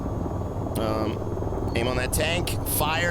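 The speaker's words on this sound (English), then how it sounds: "I'm gonna pull back to try to slow down this helicopter" A helicopter in the VR flight game VTOL VR, on a mission over Pittsburgh, hums as a steady rotor and engine drone under a man's close, continuous speech.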